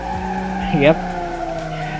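In BeamNG.Drive, a rear-wheel-drive car carrying a powerful engine built in Automation spins its tires and skids with a brief rising squeal over a steady engine drone, close and moderately loud, with a voice talking briefly.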